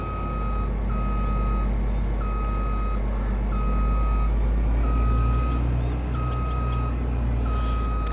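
Reversing beeps from a harvester in Farming Simulator 22 on PS5, evenly spaced electronic tones repeating about every 1.3 seconds over a loud, steady machine rumble, with no speech.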